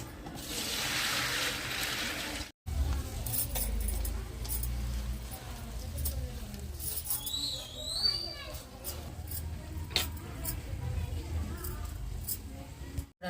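Puffed rice (borugulu) is washed and stirred by hand in water, giving soft sloshing, trickling and clinking sounds up close, with a voice talking intermittently over it.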